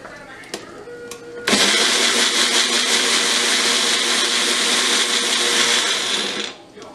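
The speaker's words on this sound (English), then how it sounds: "I'm going to blend these all ingredients in the magic bullet" A Magic Bullet blender whirs loud and steady for about five seconds as it blends green chutney ingredients, starting abruptly after brief kitchen clatter and cutting off near the end.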